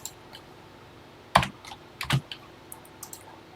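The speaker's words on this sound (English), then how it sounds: "Okay, let's type it in." A few sparse keystrokes tap on a TI-99/4A home computer keyboard, with two louder clacks and lighter clicks between them, close and quiet in an otherwise still room.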